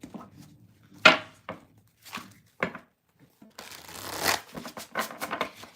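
Tarot cards being shuffled by hand in bursts of riffling and snapping, with sharp card slaps and a longer dense shuffle near the end, close and fairly loud with no talking.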